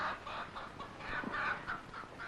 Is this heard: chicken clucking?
yes